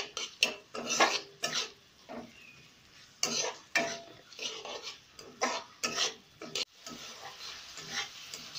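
Onions being stirred in a pan until browned for a golmorich chingri prawn dish, with garlic also cooking. Scraping, clattering strokes come in irregular bursts with short pauses, close and moderately loud, and no talking.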